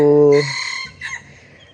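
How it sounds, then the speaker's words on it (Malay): Rhode Island Red hens stressed by hot, dry weather give a loud, close harmonic vocal call that breaks off, followed by a shorter rough, hoarse cough-like cluck, then quiet. "So ayam ni macam terbantuk lah."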